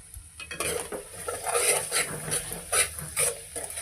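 A spoon stirring egg curry in a pan, with repeated scraping and clinking strokes over a light sizzle, close and fairly loud, no talking.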